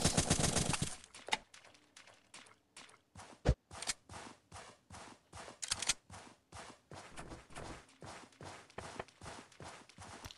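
Rapid bursts of gunfire from the battle royale game Zombs Royale, crackling in quick repeated volleys with short gaps, loud and close throughout with no talking.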